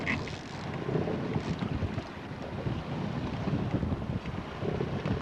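Strong 15 to 20 mph wind buffeting the microphone on a boat while walleye fishing on open water with two-to-three-foot waves, a steady loud roaring gust noise throughout.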